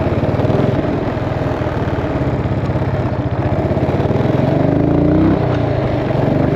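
A 2007 Buell Blast single-cylinder motorcycle, a half-Sportster thumper engine, idles close by with a steady, loud, lumpy low beat, the pulses briefly shifting in pitch near the end, with no voices.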